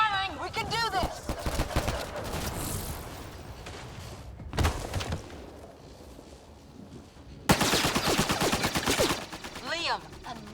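Heavy gunfire in a Mass Effect Andromeda cutscene, dense rattling bursts in waves with quieter gaps, voices shouting over the shots.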